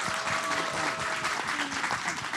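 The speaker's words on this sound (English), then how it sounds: "big round of applause for all of us here" Applause from an audience for panel speakers at a women's empowerment event, a continuous, even wash of clapping with some cheering mixed in, fairly close.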